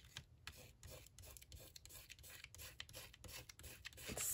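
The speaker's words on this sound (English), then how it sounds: "I think this rubbing method is working good for me" Paper is rubbed off the cover of a Hobonichi Cousin notebook by hand, giving close, quiet, repeated scratchy rasping strokes with no talking.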